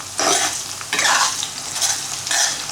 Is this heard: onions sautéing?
yes